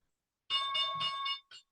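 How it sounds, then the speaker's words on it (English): A stock market opening bell gives a single bright ringing tone lasting about a second, then a short second ring, clear against near silence. "And there's the bell."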